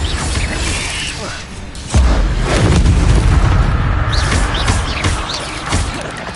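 An Incendio fire spell from the video game Hogwarts Legacy erupts in a loud, sudden boom that gives way to a sustained roar of flame and magical crackle, set over dense game ambience.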